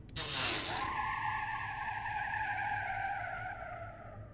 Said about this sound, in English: you can over rev the engine sound is different